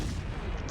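Warship guns firing shells in a World of Warships naval battle, a dense continuous booming rumble of artillery fire with no distinct pauses, loud and close throughout the short burst.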